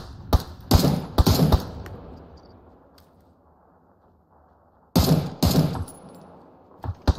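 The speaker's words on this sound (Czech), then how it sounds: "Aha, střílejí někdo. Někdo střílí." Gunfire in a video game: two bursts of sharp, loud shots, one around the start and another after a quiet gap, each made of several rapid cracks close together.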